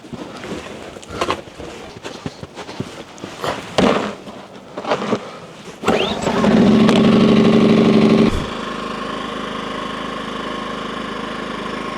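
An Erayak 2400P inverter generator runs with no load, settling into a steady mid-pitched engine drone after a burst of louder revving and clattering handling noises, close and continuous with no talking.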